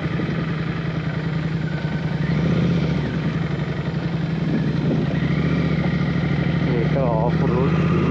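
Motorcycles ride fast on the road up to Deomali hill, a steady loud engine drone with wind rumble running throughout the whole stretch.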